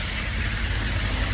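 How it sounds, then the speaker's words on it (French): Steady rain falling on an Istanbul street, a dense continuous hiss with low rumble, constant and close throughout with no voices. "Aujourd'hui, il pleut."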